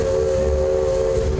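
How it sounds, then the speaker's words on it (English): Loud, sustained steam whistle of a Roaring Camp Railroad steam locomotive in the redwoods, one steady blast holding a clear tone throughout. "There's something about that train's horn that is a little contagious"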